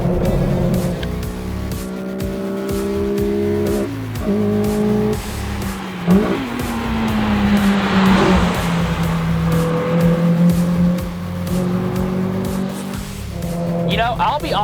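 A Honda Civic Si with a swapped K24 engine pulls away under acceleration, its steady engine drone rising and holding loud and close for about fifteen seconds, with a brief rougher burst near the end.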